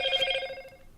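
A phone rings with a bright, bell-like electronic tone, one short burst close by that quickly fades.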